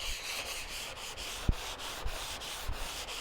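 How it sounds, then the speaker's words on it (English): Close, steady scratchy sanding of bare metal car bodywork in a crosshatch pattern, with rhythmic back-and-forth strokes and a few light knocks, moderate in loudness and alone. "I find it best to work in a little bit of a crosshatch pattern, not unlike what you would do when sanding body filler"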